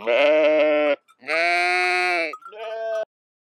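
Sheep bleat three times, close and loud. The first two calls are long and wavering, and the last is shorter and softer, with brief silences between them.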